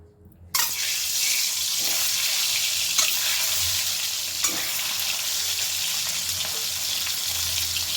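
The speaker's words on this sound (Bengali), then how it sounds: "লবণ আর হলুদ মাখানো ডিমগুলো এবার আমি ভালো করে ভেজে নেব।" Eggs rubbed with salt and turmeric hit hot mustard oil with a sudden loud sizzle, then keep frying in a strong, steady crackle with a few sharp pops and no talking.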